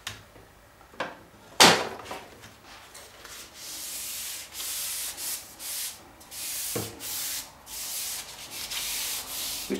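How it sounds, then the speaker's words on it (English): Cloth wiping and rubbing along a shower seal profile, near and fairly quiet, with a few sharp knocks early on followed by repeated brushing strokes in an uneven rhythm. "it's time to clean the profile before you fit it"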